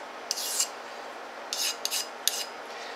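A small, thin sharpening stone rubs a bevel onto the edge of steel parallels, making four short, bright rasping strokes with quiet pauses between them. The strokes are close and crisp, with no talking.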